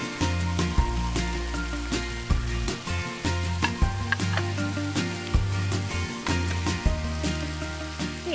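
Vegetables stir-fried in a pan for chili crab give a steady, close sizzle with brief stirring clatters, running under loud background music.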